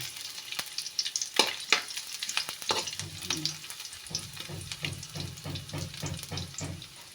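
Garlic sautés in an oily pan ahead of sardines, a bright sizzle broken by scraping spatula strokes that settle into a quick regular stirring rhythm, close and moderately loud with no speech.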